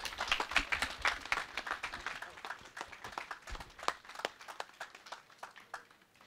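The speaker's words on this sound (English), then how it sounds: "let's give our honorees a round of applause" Applause for honorees at a cherry blossom festival in Waimea, with scattered, faint hand claps from a modest crowd that thin out toward the end.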